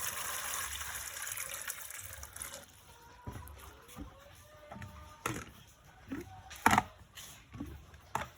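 Water poured from a container into chicken drinkers during brooding, a gushing pour that fades into intermittent trickles and splashes with plastic knocks and handling noises.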